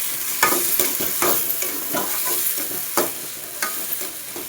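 Onion-tomato paste for chicken curry being stirred in a hot pan, with a loud continuous sizzle broken by repeated scraping strokes of a spoon at an uneven rhythm, close by and with no talking.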